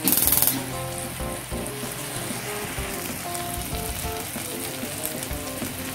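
Beef sizzles and spits loudly as it sears in a hot pan, a steady crackling hiss that runs the whole time with no talking.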